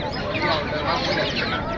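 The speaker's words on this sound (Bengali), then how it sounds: "এই যে দেখেন এখানে আছে টাইগার মুরগি, কত বড় বড়" Large tiger chickens cluck amid the busy din of a village market, their calls mixed into a dense wash of crowd noise and nearby voices.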